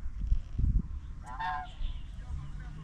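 A goose honks once, a short nasal call at middle distance, in a lakeside enclosure by Taihu in Huzhou where peacocks, geese, chickens and ducks are kept together, over low rumbling background noise.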